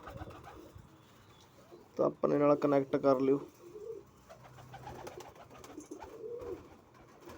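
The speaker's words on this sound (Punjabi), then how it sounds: "ਸਾਰੇ ਆ ਤੁਹਾਡੇ ਸਾਹਮਣੇ ਕਬੂਤਰ ਫਿਰਦੇ ਆ" A young pigeon for sale gives a loud, close burst of cooing lasting about a second, set against quieter background talk and occasional softer bird sounds.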